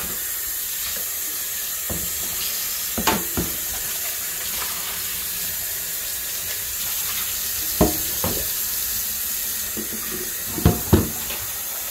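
Tap water runs steadily in a home kitchen while soul food such as fried cabbage with bacon and fried chicken is cooked, with a few sharp clinks and knocks over the constant flow and no talking.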